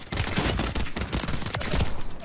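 Rapid gunfire in the battle-royale video game Call of Duty Warzone, a dense, loud fusillade of overlapping shots in quick bursts throughout with no talk.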